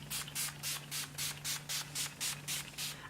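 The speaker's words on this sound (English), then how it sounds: "I'm going to use the Urban Decay All Nighter Makeup Setting Spray." Urban Decay All Nighter makeup setting spray hisses out in about a dozen quick, evenly spaced pumps, each a short bright spritz, close up and steady over a faint background hum.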